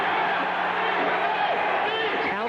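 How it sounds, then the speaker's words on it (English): Loud, dense crowd cheering and shouting fills a 1987 Eagle Pro Box Lacrosse game, Washington at Philadelphia, an indoor arena roar holding steady throughout with scattered whoops rising above it. "the crowd gets in the game with a little prompting from a very active public address announcer"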